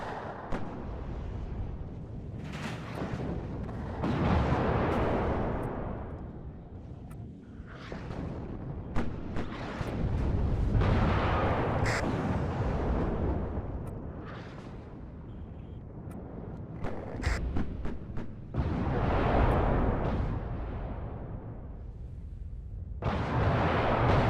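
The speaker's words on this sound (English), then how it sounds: "Definitely hit those with artillery." Repeated heavy artillery blasts in the WARNO wargame, deep rumbling booms rolling out one after another at irregular intervals over about twenty seconds, with sharper cracks and pops between them.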